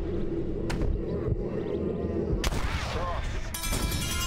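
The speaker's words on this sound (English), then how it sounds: "I shot him in the hand" Gunfire in the Red Dead Redemption video game during a Deadeye duel: a few sharp, bright bursts ring out over a dense, continuous bed of game sound and rumble, one at the start and two more late in the clip.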